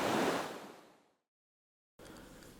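Sea waves wash in as a broad, rushing surge that fades into total silence, followed by a quieter, steady surf hiss.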